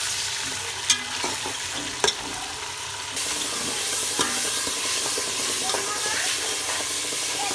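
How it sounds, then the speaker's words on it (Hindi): Minced meat with cinnamon pieces is stir-fried in a pan, starting with a few sharp scraping clacks, then turning into a louder, steady sizzle with intermittent stirring strokes. "थोड़ा सा कीमे को भून लेंगे"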